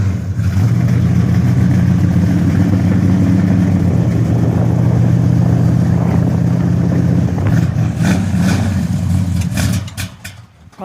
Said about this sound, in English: Car's got a pretty nice rumble.